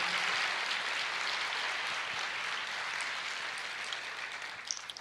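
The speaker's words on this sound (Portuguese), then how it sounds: "Pode aplaudir ao Senhor." Church congregation applauding during a worship service, a dense, fairly distant wash of clapping that holds steady alone and thins slightly toward the end.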